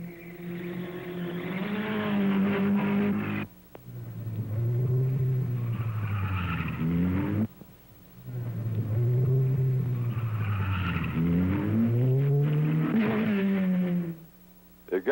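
Vintage sports cars such as Alfa Romeos, Austin-Healeys, Porsches, MGs and Volvos climb a twisting hill-climb road one at a time around 1960, their engines buzzing and rising in pitch through three long, loud passes with short gaps between.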